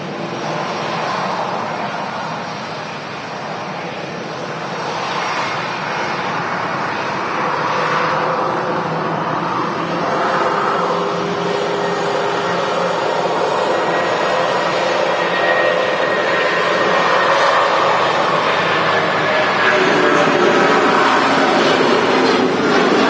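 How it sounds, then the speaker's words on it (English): A Jet2 Boeing 757 airliner's engines roar at Manchester Airport, a loud, sustained broadband rumble that swells gradually over about twenty seconds, with no voices. "What a noise from the Jet 2 757"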